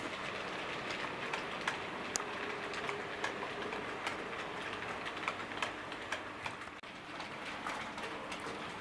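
A Hornby T9 model locomotive clatters steadily along the track, with a run of light rhythmic clicks over a continuous rumbling background.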